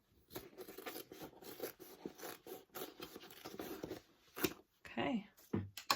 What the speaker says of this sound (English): I'm just going to trim down my seams just a little bit here